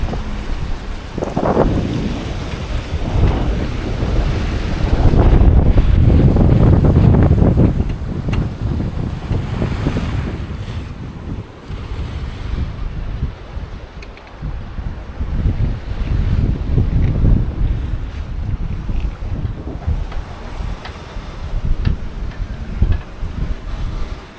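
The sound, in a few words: wind and waves on a sailboat at sea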